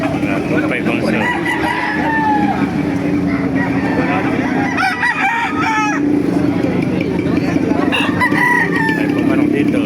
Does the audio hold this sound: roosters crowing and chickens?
yes